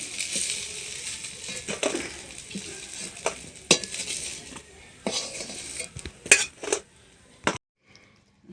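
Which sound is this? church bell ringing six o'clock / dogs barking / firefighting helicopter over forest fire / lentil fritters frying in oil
lentil fritters frying in oil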